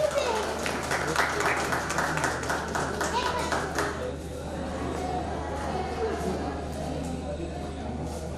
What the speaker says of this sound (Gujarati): આપણે તાળીઓથી જોરદાર વધાવશું